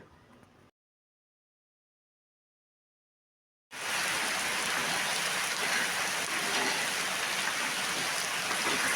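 Ivy gourd fruit fries in a pan with a dense, steady hiss that starts abruptly after a brief silent gap and continues loud and even to the end.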